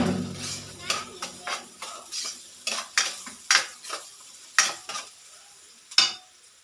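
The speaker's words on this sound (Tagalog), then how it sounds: "Gisa-gisa lang po natin. Tapos ilalagay na yung sibuyas." Onions are stirred in a pan for ginataang tilapia: a utensil scrapes and clinks against the pan in irregular strokes over a soft sizzle, fairly close and without talk.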